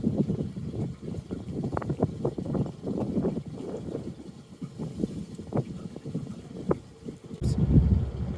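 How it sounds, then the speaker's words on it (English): Gusty wind on a canal buffets the microphone in a continuous low rumble, swelling and easing, with a stronger gust near the end. "All of a sudden it's got a little bit windy."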